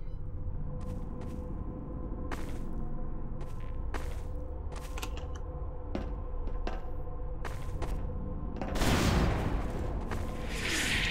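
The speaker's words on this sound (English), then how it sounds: "Every time that explosion goes off" In Half-Life 2, a burst of broadband explosive roar swells near the end, after a run of scattered sharp clicks and thuds over a low steady game drone.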